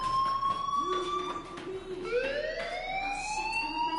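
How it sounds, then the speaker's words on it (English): A wailing alarm in a PlayStation 4 game, a rising and falling siren-like tone sweeping upward repeatedly, loud and continuous over a low background. "do you hear that fire alarm?"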